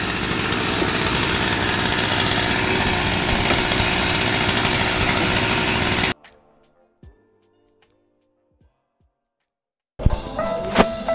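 Petrol chainsaw cutting wood while a tree house is taken down, a loud continuous buzzing roar for about six seconds that cuts out abruptly into near silence, then restarts briefly at the end.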